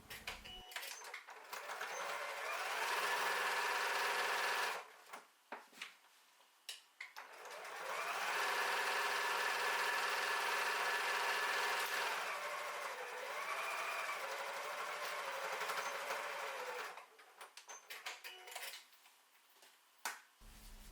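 A sewing machine stitches a tote bag in long, steady whirring runs. The runs are broken by short pauses and brief bursts of handling, close and clear, with no talking.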